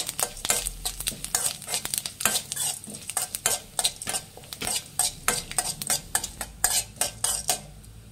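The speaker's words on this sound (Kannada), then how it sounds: "ಇವಾಗ ಜೀರಿಗೆ ಹಾಕ್ಕೊಳ್ಳಿ. ಫ್ರೈ ಮಾಡಿ ಲೋ ಫ್ಲೇಮಲ್ಲಿ ಇಟ್ಟು." Cumin seeds frying in a pan on a low flame, with a utensil stirring and scraping in quick repeated strokes over a soft sizzle, and no speech.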